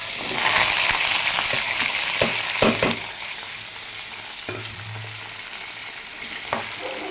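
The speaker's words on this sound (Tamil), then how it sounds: "இதை வந்து நல்லா இப்போ வதக்கணும்" Tomato chutney ingredients with salt sautéing in a pan, a loud continuous sizzle with several clattering stirs early on and a couple of later scrapes, no voices.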